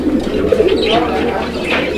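Pigeon cooing close by at a pigeon seller's, a few loud throaty coos rising and falling over faint background murmur.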